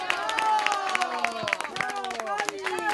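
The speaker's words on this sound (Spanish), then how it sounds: "Un gran aplauso." Audience applause breaks out at a live event, a loose patter of clapping beneath a busy layer of voices and chatter.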